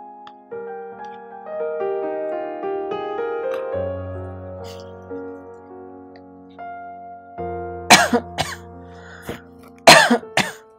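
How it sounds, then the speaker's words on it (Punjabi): An elderly woman coughs in several harsh, loud bursts close by near the end, following a long stretch of quiet tonal music in a Punjabi film scene. "ਮਾਤਾ ਨੂੰ ਕਾਫੀ ਖੰਘ ਹੋਈ ਪਈ ਹੈ"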